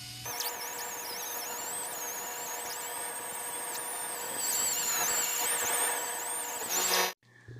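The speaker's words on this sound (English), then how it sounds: "going to be using the angle grinder with a 36 grit roll-lock disc to remove all that paint and get it down to bare metal" An angle grinder with a 36 grit roll-lock disc strips paint from a car panel down to bare metal, giving a loud, continuous high whine with a wavering squeal that runs for about seven seconds before stopping abruptly.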